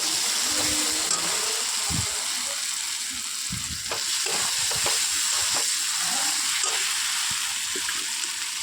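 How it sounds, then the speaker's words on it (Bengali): Spices with Kashmiri chilli powder fry and sizzle in a pan for a pointed gourd and prawn curry, a steady loud hiss broken by repeated scraping strokes of a stirring spoon, with no talking. "দিয়ে ভালো করে নাড়াচাড়া করতে থাকবো, মশলার যাতে কাঁচা কোনো গন্ধ না থাকে"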